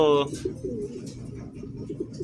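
A racing pigeon coos in low, throaty repeated notes after a brief voiced sound at the start, close by.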